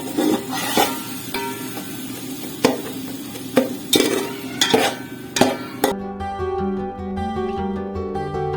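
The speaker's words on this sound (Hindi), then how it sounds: "अब हम इनको अच्छे से भून लेंगे प्याजों के साथ।" Tomato paste and onions fry in a pan for chana pulao with a continuous sizzle and repeated sharp clinks of a spoon stirring against the pan. Music takes over for the last couple of seconds.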